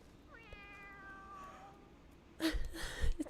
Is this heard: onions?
no